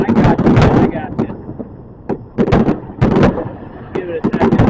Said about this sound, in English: Wait for the fireworks to be done.